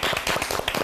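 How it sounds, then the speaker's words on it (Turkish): Studio audience clapping on a Turkish cooking-competition show, a short burst of brisk, close, fairly loud applause meant as encouragement for a contestant. "Yeşime bir moral alkışı"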